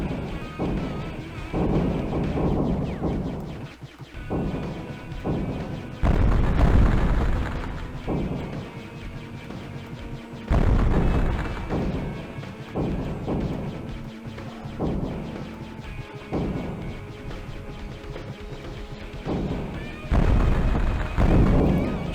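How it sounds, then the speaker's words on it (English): Explosion effects boom repeatedly in the off-road racing video game Hardcore 4x4, heavy crashing blasts recurring over a driving music track. "That's a good explosion sound as well."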